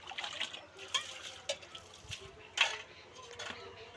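Dishes being washed under running water: a steady trickle and splash with repeated clinks of pots, plates and cutlery, close and moderately loud, as part of morning household chores.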